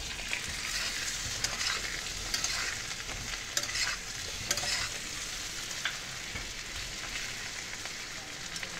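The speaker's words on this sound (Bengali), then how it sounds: "এবার আমি আলুটা দিয়ে দিচ্ছি।" Boiled potatoes fry in butter with a steady, dense sizzle and crackle. Repeated scraping clicks from stirring sound close by, and nobody speaks.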